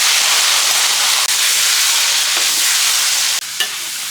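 Sliced meat drops into a hot wok with Sichuan peppercorns, star anise and dried chilies, setting off a loud, steady sizzle and hiss that holds throughout, with a brief clatter near the end.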